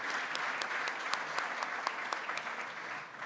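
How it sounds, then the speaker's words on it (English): An audience at a football panel discussion applauds its panelists with steady, fairly soft clapping from many hands, and a few individual claps stand out over the even patter. "a round of applause for our panelists"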